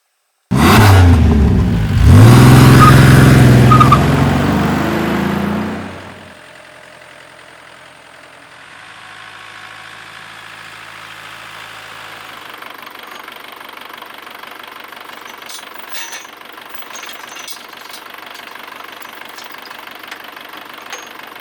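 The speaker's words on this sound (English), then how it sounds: "she pulled away from this tractor far smoother than Travis did." A loud tractor engine revs hard for several seconds, then drops to a quieter, steady running hum as the tractor moves off into the distance.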